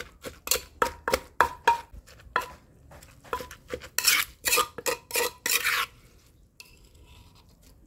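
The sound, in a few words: pounding pickled-fish mushroom chili paste in a mortar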